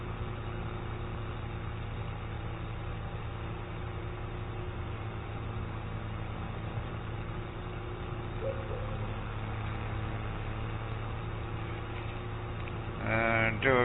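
A farm tractor engine idles steadily with a low, even hum that stays constant throughout, and a brief louder clatter comes at the very end.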